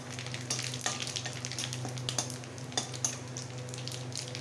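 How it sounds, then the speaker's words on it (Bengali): Dried red chillies, peppercorns, garam masala, two bay leaves and whole cumin crackle in hot oil for an egg curry, a dense close sizzle with a low steady hum beneath and occasional sharp pops and utensil taps. "তেলটা গরম হয়ে গেছে। শুকনো লঙ্কা, গোলমরিচ, গরম মশলা, দুটো তেজপাতা দিয়ে দিলাম।"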